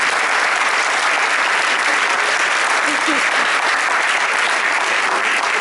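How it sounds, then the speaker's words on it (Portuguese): Audience applause fills the hall at the opening session of the Correntes d'Escritas literary festival in 2014, a steady, dense wash of many hands clapping for several seconds with no break. "E, portanto, palmas para as coisas."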